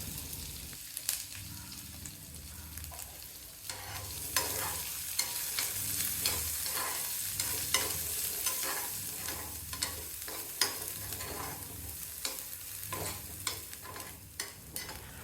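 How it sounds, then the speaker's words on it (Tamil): Finely chopped onions, about a cup, sautéing in a pan with tempered spices for bun dosa batter, a faint steady sizzle broken by repeated scraping stirs of a spatula at an irregular rhythm; no talking. "பொடிசாக வெட்டின வெங்காயம் 1 கப் அளவு இருக்குது, அதையும் அதில் சேர்த்து வதக்கணும்."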